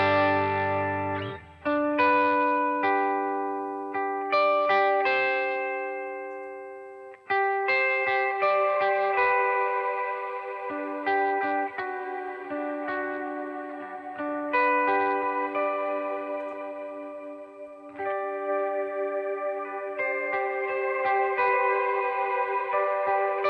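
Electric guitar played through a rig whose mid and high channels use cloud reverbs and whose low channel uses a plate reverb, sustained chords and single notes ringing out in a washy, shimmering tail, loud and alone with no talk.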